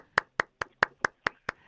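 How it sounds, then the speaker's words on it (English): Eight crisp, evenly spaced hand claps ring out at a nightclub comedy show, loud and close, about one every quarter second, like a single person clapping a slow beat rather than a full audience. "we need applause for the end of that"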